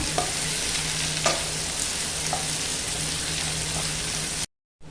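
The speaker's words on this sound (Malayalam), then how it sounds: "ഇത് നന്നായി ഒന്ന് വഴറ്റിയെടുക്കാം" Sliced onion and a sprig of curry leaves sauté in oil in a pan, giving a continuous close sizzle with occasional stirring clicks before cutting off abruptly.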